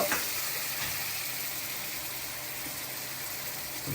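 Coriander tempering in hot oil sizzles and crackles steadily up close, a bright continuous hiss with small pops throughout.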